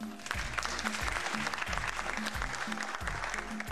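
A steady, dense patter of clapping hands continues throughout with no voices over it.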